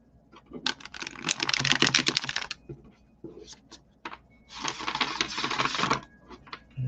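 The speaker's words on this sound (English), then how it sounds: "let's give it one more shuffle, huh?" Tarot cards being shuffled in two long riffling bursts of dense rapid flutter, with a few short taps and clicks between them, close and fairly loud, no talking.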